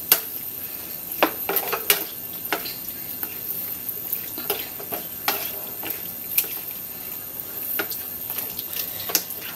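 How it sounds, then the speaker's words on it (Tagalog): Pork stock goes into a pot of Filipino menudo and gets stirred, with scattered clinks and scrapes of a utensil against the metal pot and light liquid sounds, close and fairly quiet, with no talking. "Pwede na natin ilagay yung ating pork stock."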